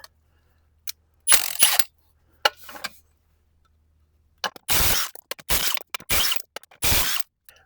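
Sharp metallic clicks and ratcheting bursts from a 3/4 socket working the lug nuts off Polaris Sportsman 570 razor wheels, close and loud in short separate spurts with quiet gaps between.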